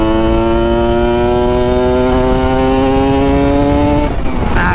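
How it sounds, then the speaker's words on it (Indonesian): Loud, close motorcycle engine revving steadily with the throttle held open, a smooth sustained tone that drops off abruptly near the end. "kayak gini gas dibuka terus dia bersih"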